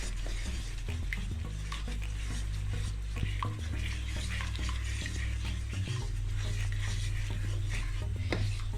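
A spoon scrapes and stirs steadily through rice in a pot, with a soft sizzle underneath and occasional clinks against the metal.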